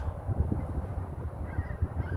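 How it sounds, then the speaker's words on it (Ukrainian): Geese honk repeatedly in flight over a field in a loose, overlapping chorus, moderately distant, with no talking. "дивіться, гуси летять"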